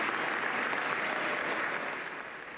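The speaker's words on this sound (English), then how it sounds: "Lawmakers applauding the miracle of that little girl's life" Lawmakers on the House floor applaud steadily, a dense, even wash of clapping that holds throughout and eases slightly toward the end, with no voices standing out.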